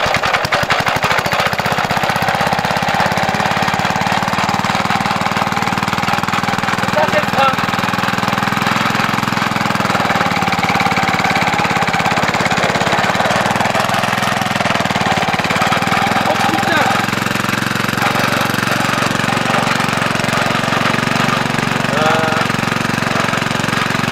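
A walk-behind tiller being converted into a small tractor runs its engine close by. The loud, rattling, steady drone holds for over twenty seconds with little change in pitch.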